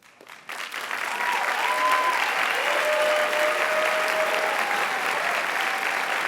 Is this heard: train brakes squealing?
no